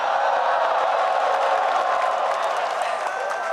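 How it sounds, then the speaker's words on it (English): A large arena crowd cheering and applauding at the League of Legends World Championships closing ceremony, a loud continuous roar of voices and clapping throughout. "Thanks for cheering us, but don't cheer us too hard because we're going to come back anyway."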